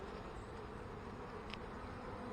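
Honeybees buzz steadily at an open hive, a dense continuous drone that stays close and even throughout.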